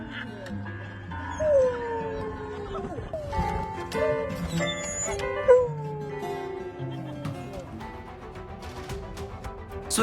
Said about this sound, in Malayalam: നായയുടെ കീബോർഡ് വായന ഏറ്റെടുത്ത് സോഷ്യൽ മീഡിയ.